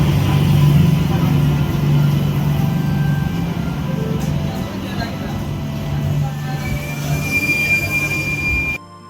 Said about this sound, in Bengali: 6:40 প্ল্যাটফর্মে এসে গেছে ট্রেন।